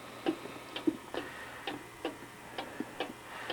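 A cuckoo clock ticks steadily and softly, about two even ticks per second, close up with no voices.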